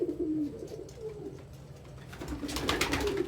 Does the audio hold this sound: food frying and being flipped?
no